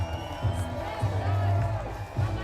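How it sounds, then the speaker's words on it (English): A crowd cheers and whoops in a loose, swelling roar, with an amplified voice talking over it. "Can we get one more round of applause for all our Big Air?"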